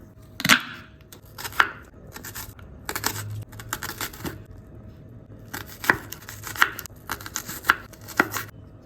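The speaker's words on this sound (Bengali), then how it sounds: "এবার আমি এই দুটো পেঁয়াজকে চপ করব।" A knife chops two onions in sharp, separate strikes, some single and some in quick clusters, fairly close but soft, with quiet gaps in between.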